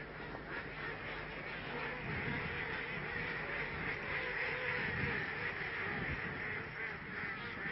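Farmed ducks or geese on a farm, a steady chorus of quacking and honking with many overlapping calls at moderate distance, continuous throughout.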